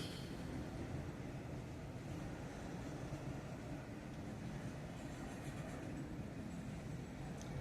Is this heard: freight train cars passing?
yes